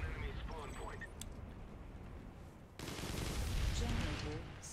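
Gunfire in Planetside 2 aimed at a Sunderer vehicle, steady rattling shots running through the clip and growing denser and louder in its second half, with speech in the background.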